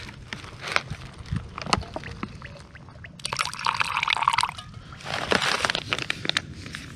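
Hot water is poured into a mix during campfire cooking at a camp, with two bursts of close splashing pouring separated by clinks and knocks of handling cookware, and no talk.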